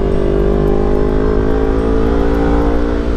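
Kawasaki Ninja 250FI motorcycle fitted with a loud aftermarket exhaust, cruising on a toll road: a steady, dense engine drone with a continuous rumble and layered harmonics, close and loud throughout with no talk.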